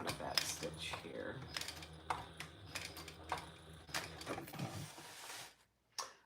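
A sewing machine back stitches along the closed-up side of a fabric wallet, giving a run of quick mechanical clicking and whirring bursts, close and moderately quiet, that stops near the end.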